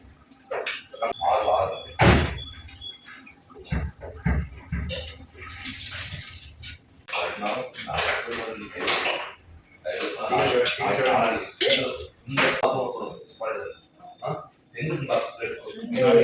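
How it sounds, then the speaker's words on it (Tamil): Soaked rice is washed by hand in a vessel with water, giving irregular sloshing, splashing and clinking bursts beneath someone talking in a home kitchen. "அரிசி ஆல்ரெடி ஊற வச்சிருந்தேன், அதை கழுவி போட்டுக்கலாம்."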